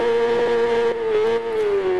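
A Yamaha YZF R6 sport motorcycle on the Isle of Man revs close by, its engine holding a loud, steady high-pitched tone that sags slightly toward the end, with small throttle blips along the way.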